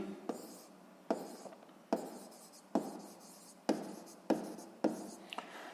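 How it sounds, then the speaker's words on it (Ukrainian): Calculations being written out by hand for a physics exercise: close, dry pen strokes on paper in a steady series of about seven scratchy bursts, each fading before the next, with no voice. "Отже, записуємо тоді, що пишемо обчислення."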